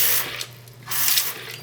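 Water being poured into a bowl to make papier-mâché paste, a soft splashing trickle in two short bursts, close and fairly quiet, with no talking.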